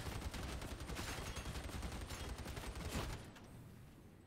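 Reaper heavy stubber from Warhammer 40K: Darktide roaring in a continuous stream of rapid automatic fire, dense and loud for about three seconds before cutting off into fainter background noise.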